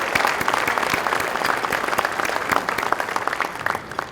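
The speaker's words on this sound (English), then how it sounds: "Let's give them a round of applause." Sustained applause from a gala audience honoring event sponsors, dense steady clapping from a large crowd filling the whole stretch at even loudness.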